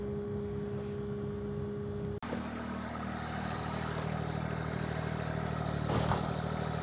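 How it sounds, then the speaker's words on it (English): A septic pump truck pumps out an old septic tank, starting with a quieter engine hum and then cutting abruptly to a loud, steady droning roar of pump and engine close by, with no talk. "we are pumping out the old tank"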